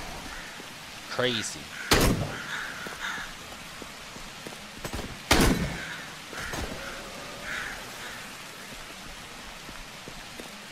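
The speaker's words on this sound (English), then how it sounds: "The pouring rain, the graphics," Steady rain patters throughout the Dead Frontier 2 game world, a soft continuous wash beneath a spoken voice, with two sharp impacts and an occasional crow call cutting through.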